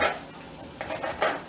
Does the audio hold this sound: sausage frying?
yes